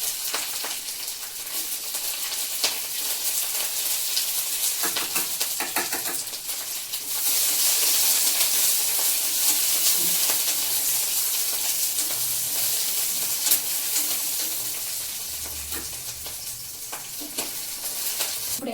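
Five green chilies sizzle and crackle steadily in hot oil in a pan for pachadi, a loud continuous fry with occasional stirring scrapes, no one speaking.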